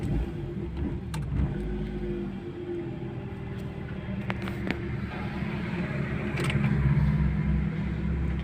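A Toyota Corolla 16-valve engine runs on gas fuel at a steady idle, a close, continuous low hum with a slight rise in loudness toward the end.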